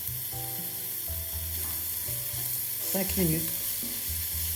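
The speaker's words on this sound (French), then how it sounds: "on ajoute maintenant les crevettes, on les laisse bien cuire quelques minutes" Shrimp fry in a pan with softened vegetables for a shrimp bisque, giving a steady, moderate hiss and crackle. A brief spoken phrase and some tonal sounds play over it.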